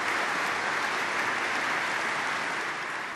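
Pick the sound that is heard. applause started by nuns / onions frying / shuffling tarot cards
applause started by nuns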